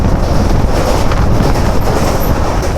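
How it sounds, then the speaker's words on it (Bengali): A passenger train bound from Kolkata toward Nagaland runs along the rails with a loud, steady, close rumble and faint clatter throughout. No voices are heard. "আমাদের ট্রেন এক্ষুনি ছাড়লো, 9টা 5-এ আমাদের ট্রেন জার্নি শুরু হলো।"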